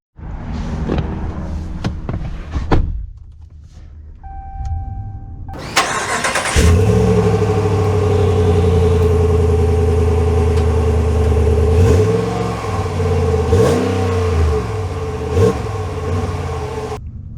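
A 2023 Ram 1500 Laramie Sport pickup starts and is driven, with a few clicks and a door sound first, then the engine catches and holds a loud, steady hum that rises and falls as it revs and shifts.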